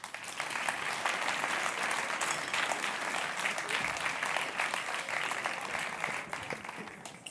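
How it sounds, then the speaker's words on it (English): An audience at a European youth award gala gives a steady round of applause, with dense continuous clapping held at one level for several seconds and heard from a moderate distance. "let's have a big round of applause"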